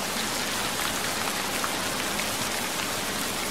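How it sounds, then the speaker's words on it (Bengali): Heavy rain pours steadily as a dense, constant wash of drops on surfaces, loud and even throughout with no other sounds. "বাইরে তখনও মুষলধারে বৃষ্টি,"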